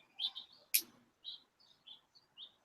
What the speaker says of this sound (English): I like the sound of birds.